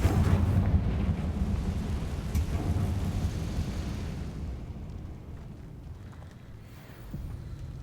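A Confringo blasting spell explodes in Hogwarts Legacy inside a spider-filled catacomb, a loud rumbling boom at once that slowly fades over several seconds into low, quieter debris noise.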